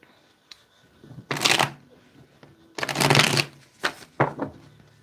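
Tarot cards being shuffled in close, crisp riffling bursts: a short one, then a longer rustle, and two quick final riffles, with brief taps between in a quiet room.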